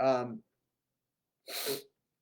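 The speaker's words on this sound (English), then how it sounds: "Oh, I have to sneeze." A single sneeze bursts out alone after a brief voiced sound and a second of silence, close to the microphone.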